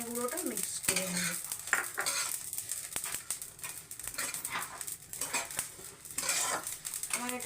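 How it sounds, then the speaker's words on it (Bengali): Coriander powder stirred into frying fennel and spices in a pan, with a spoon clinking and scraping against the metal over a faint sizzle in a steady, close series of taps. "এই মোমেন্টে আমি ধনে গুঁড়োটা মিক্স করে নেব"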